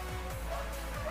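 Dogs barking somewhere near a home in a few short, distant woofs over a steady low background hum, with no talking.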